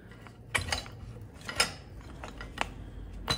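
Sharp knocks and clatters as something bangs into a camera during cooking of a soy curl vindaloo, several scattered loud thumps close to the microphone with quiet kitchen noise between them.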